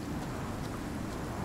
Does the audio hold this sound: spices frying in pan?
no